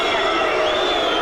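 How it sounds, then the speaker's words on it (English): A boxing arena crowd jeers and boos after the referee disqualifies Melvin Epps in his heavyweight fight with Lennox Lewis, a dense, sustained roar of many voices filling the hall without a break. "the crowd booing"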